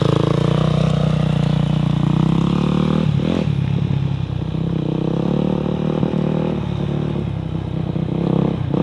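A young rider's first big dirt bike roars close by at steady high revs, its engine droning continuously with slight pitch dips and scraping clatter as it speeds along.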